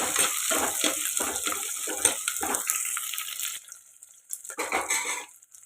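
Dried red chillies, curry leaves and small shallots being lightly sautéed in hot oil in a pan for a small onion gravy, a close, steady sizzle and crackle that fades, then briefly flares again.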